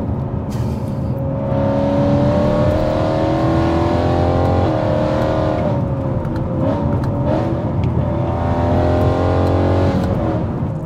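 A BMW E92 M3 engine drones steadily at close range, with rising and falling revs as it drives along, loud and continuous throughout.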